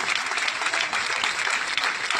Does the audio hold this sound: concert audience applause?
yes